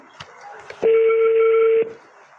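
A phone call goes unanswered: a single steady electronic tone lasts about a second, loud and close, with faint voices and clicks before and after it.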